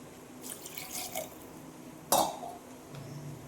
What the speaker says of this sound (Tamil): தண்ணி தேவையான அளவு சேர்த்துக்குவோம்.